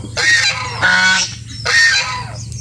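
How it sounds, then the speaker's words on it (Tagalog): Loud geese honk close by in three harsh, blaring bursts, one after another with brief pauses between. "Ay, gansa! Ingay!"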